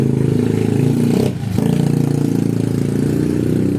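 A motorcycle engine drones steadily nearby while a wall fan is being repaired, loud and continuous with a brief dip in the middle, and no talking over it.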